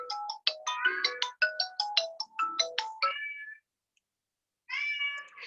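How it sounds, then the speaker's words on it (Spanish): A phone rings with a melodic, beeping ringtone: quick bursts of tonal notes in a steady pattern, then a pause and a short final burst, close and clear with no talk over it. "ya va que está sonando el teléfono"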